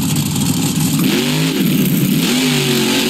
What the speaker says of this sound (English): I can hear the zombie monster truck.